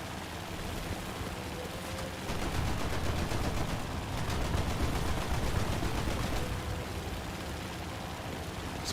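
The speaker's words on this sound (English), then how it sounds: "He's already started shooting back." Naval gunfire in a warship video game set on choppy seas with aircraft engines nearby, a fairly quiet run of rapid repeated shots over a steady rumbling wash, with a voice speaking faintly.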